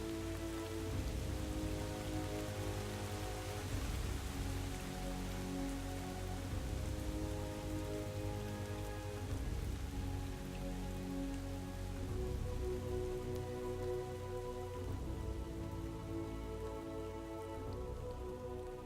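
Steady rain from the video game Drizzlepath: Genie patters on surfaces in a dense, even hiss throughout, with a faint tonal game ambience underneath and no voices.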